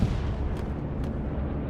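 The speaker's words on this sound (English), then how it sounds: "Sounds like an Asprit bomb run." Continuous low rumbling barrage of bombing-run explosions in the World War II shooter Hell Let Loose, dense and steady with a couple of sharper bursts, heard from a distance with no talk.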